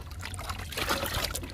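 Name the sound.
pouring neem leaf liquid into a bucket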